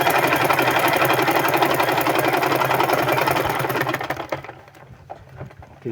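A sewing machine topstitches a cross pocket on men's pants, giving a steady, loud mechanical whir with rapid needle rhythm that slows and stops after about four seconds, leaving light handling noises.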